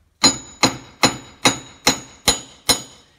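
Seven sharp metallic hammer blows ring out at a steady, even pace, striking a wheel stud to drive it out of a car's wheel hub, loud and close with no talking.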